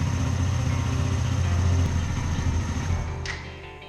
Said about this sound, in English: Let's try turning the bike on. It fired up on the first try